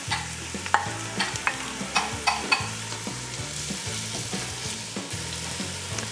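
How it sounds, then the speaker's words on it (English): Onions sizzle steadily in hot olive oil, a constant crackling hiss with scattered sharp pops, close up and loud, while a spoon stirs and scrapes throughout. "that sizzling sound"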